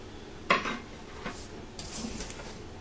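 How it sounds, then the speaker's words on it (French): Flour being mixed into raspberry tart dough in a bowl, with a sharp utensil knock against the dish followed by a few softer scraping and clinking stirs, close and fairly quiet. "vous mélangez bien jusqu'à l'incorporation totale de la farine"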